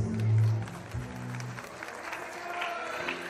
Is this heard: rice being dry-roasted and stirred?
no